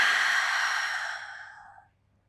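A single long, audible exhale during a morning yoga routine, a breathy rush that fades out over about two seconds into near silence.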